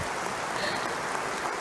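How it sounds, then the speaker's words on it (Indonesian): An audience at a company anniversary event applauds for PT Hexindo Adi Perkasa, producing a brief, fairly soft and even wash of clapping with no voices. "kami mohon bisa diberikan tepuk tangan yang meriah untuk PT Hexindo Adi Perkasa"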